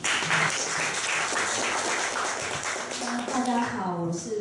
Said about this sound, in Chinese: 那我们这个 Rachel 掌声欢迎